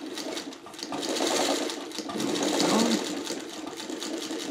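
A sewing machine back stitches while piecing quilt squares, producing a close, continuous rapid whir with a slight swell in the middle.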